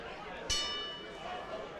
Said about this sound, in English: The bell is sound.